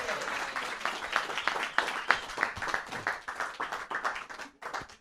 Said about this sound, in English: Come on, give them a nice round of applause, ladies and gentlemen